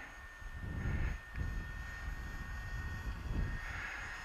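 A TopRC T1400 RC motor glider flies at a little above half throttle, its electric motor giving a steady, fairly faint whine and rush that swells and fades as it passes overhead.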